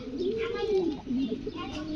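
A pair of black satin pigeons on a farm coo steadily and fairly close, with low rolling calls rising and falling throughout and no clear pause.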